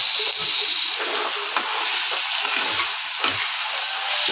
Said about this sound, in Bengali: এটাও একটু তেলেতে ভাজা হচ্ছে